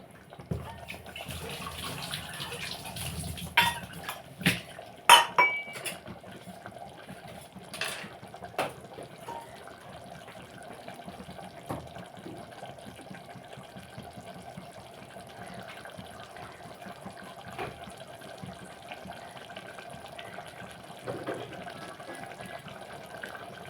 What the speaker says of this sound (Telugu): కొంచెం వాటర్ కూడా వేసుకుందాం